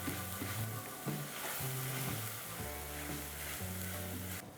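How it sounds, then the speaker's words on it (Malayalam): Green chilli, garlic and ginger masala sautés in oil, producing a continuous sizzle with periodic stirring scrapes at close range and no speech. "നമുക്ക് പച്ചമുളകിൻ്റെയും വെളുത്തുള്ളി ഇഞ്ചിയുടെയൊക്കെ പച്ചമണം മാറുന്ന വരെ നന്നായിട്ട് വഴറ്റിയെടുക്കുക."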